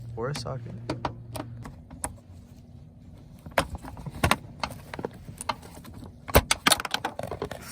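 Bolt unscrewed with a screwdriver or socket inside a Subaru WRX, giving scattered sharp metallic clicks and clinks in irregular bursts, with a person talking intermittently.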